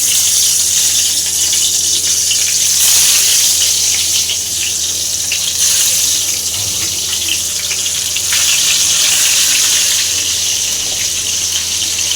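Eggplant pieces sizzle in hot oil in a home kitchen, a steady loud hiss-crackle lasting throughout with small swells, close and without talk.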